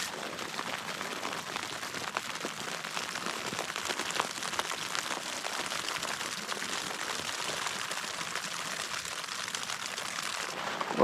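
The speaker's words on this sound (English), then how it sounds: "Woke up to some frozen rain coating the tent." Frozen rain pattering steadily on a tent in a wilderness canyon campsite, a dense continuous hiss of tiny impacts heard close up without pause for the whole stretch.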